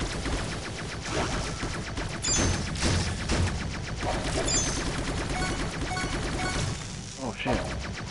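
Rapid gunfire from robot combat in the PS4 game Crashbots, a dense continuous barrage with sharp crashing bursts, loud throughout, with someone talking over it.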